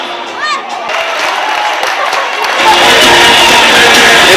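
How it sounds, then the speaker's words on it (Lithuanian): An audience at an awards ceremony for the 50th anniversary of Gargždai "Banga" breaks into loud, sustained applause and cheering that swells in halfway through, after a stretch of murmuring crowd and voices. "Ir kaipgi be aplodismentų."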